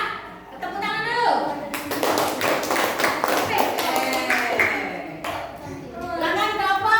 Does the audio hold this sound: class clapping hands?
yes